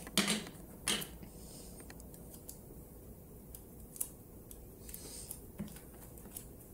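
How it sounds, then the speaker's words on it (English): Scissors cutting paper for a homemade paper pistol, quiet and close, with a few separate crisp snips spread across a faint background hiss. "Let me just cut it down a little bit"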